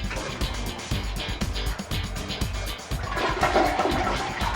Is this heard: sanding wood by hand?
no